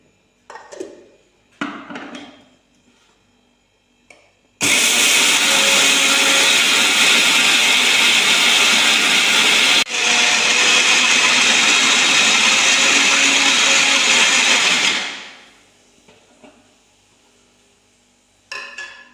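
A mixer grinder grinds thick batter with a loud, steady whine lasting about ten seconds that cuts off abruptly, with brief quieter machine bursts before it and after it.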